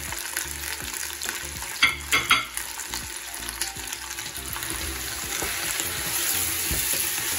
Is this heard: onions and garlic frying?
yes